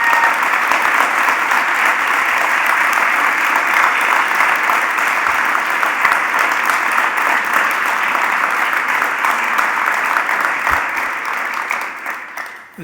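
A large crowd claps steadily for Country Music Hall of Fame inductees at an announcement ceremony, thick continuous applause that stays loud for most of its length before fading out in the final seconds.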